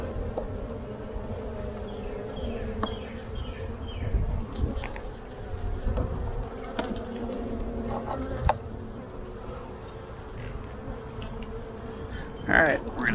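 Honeybees drone steadily in an opened hive, a close, continuous buzzing hum with individual bees whining past, while a person talks quietly over it.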